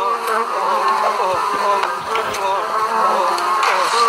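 Buzzing of flying insects, flies, mosquitoes and bees, a steady close drone of wingbeats with shifting pitch that carries through the whole stretch, alone without any talk.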